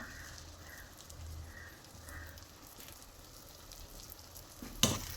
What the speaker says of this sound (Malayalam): പിന്നീട് കട്ട് ചെയ്ത് വെച്ച 20 നെല്ലിക്ക നമുക്ക് അതിലേക്ക് ഇട്ട് കൊടുക്കാം.